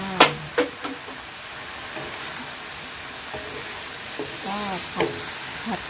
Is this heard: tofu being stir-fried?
yes